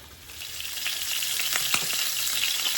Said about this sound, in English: We're not going to worry about them getting done, but we're just going to sear the outside.